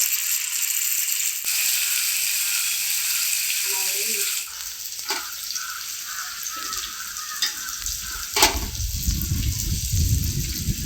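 Anchovy fish frying in normal oil in a pan, a loud continuous hiss and sizzle that shifts as the fish goes in, with rattling crackles and spatter throughout.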